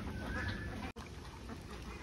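A flock of about 200 three-month-old farm ducks, their quacking and honking carrying steadily under ambient noise, with a brief cutout midway.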